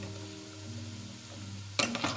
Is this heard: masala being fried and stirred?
yes